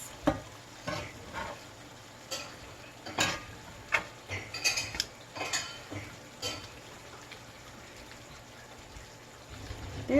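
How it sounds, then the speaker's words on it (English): Clattering dishes and utensils from a home kitchen being cleaned up behind a cook making beef and bacon tacos, intermittent knocks and scrapes at moderate distance over a faint sizzle, with no talk. "excuse the noise, Alyssa's cleaning up behind me."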